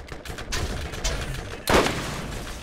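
Sharp gunshot blasts ring out in the video game Borderlands, a cluster of cracks followed by a louder burst near the end, with a noisy electronic game-like backdrop.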